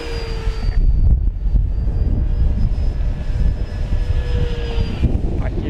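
An E-flite Draco 2.0 RC airplane flies a presentation pass in wind, its small electric motor giving a steady, faint high whine over constant broadband wind rumble throughout.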